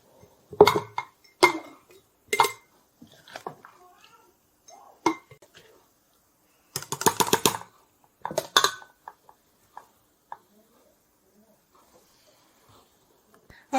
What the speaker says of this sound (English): now I'm going to pack my jar